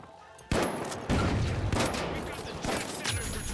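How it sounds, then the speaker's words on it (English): Shotgun blasts in the video game The Finals, several loud booming shots in quick succession with short gaps, close and dominant. "I am so good with this shotgun."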